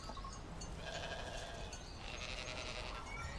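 Sheep grazing in fields, with faint bleating against a constant noisy background and no voices present.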